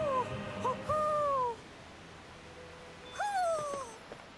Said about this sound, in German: Da ist die Eule.